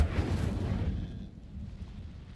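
Incendio fire spell cast in Hogwarts Legacy, a short fiery whoosh and burst that flares loudly at once and then fades into a low rumbling tail within about two seconds.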